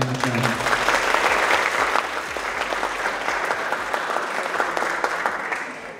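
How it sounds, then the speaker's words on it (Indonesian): A classroom audience applauds a student named Akbar during a lecture, steady clapping from many hands that starts loud and slowly fades over several seconds. "Aplaus buat Akbar."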